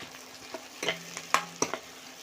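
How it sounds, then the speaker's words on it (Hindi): Butter being stirred into an oily frying pan with a spoon, soft scraping strokes and light sizzle, a few sharper scrapes and taps against the pan, close and fairly quiet, with no voices. "तो अब हम इसमें बटर डालेंगे, थोड़ा सा मिक्स करेंगे इसको अच्छे से।"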